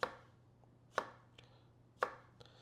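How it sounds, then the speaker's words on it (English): A knife dicing tomatoes on a cutting board lands in three sharp, distinct chops about a second apart, with a few lighter taps between them, close by and with no speech. "just gonna slice that, rotate it, one slice that way"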